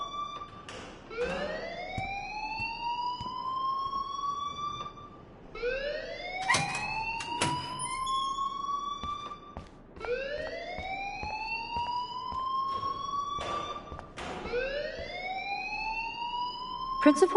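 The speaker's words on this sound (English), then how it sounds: "please turn off that alarm since that's your job." A school alarm rings in repeated rising, wailing sweeps, four cycles at a steady pace, with sharp clanks and knocks scattered between them.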